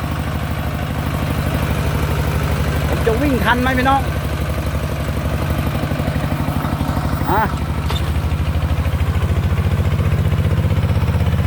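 A single-cylinder walk-behind farm tractor engine converted to a ride-on machine runs at a steady, loud, even chug throughout, with people talking briefly over it.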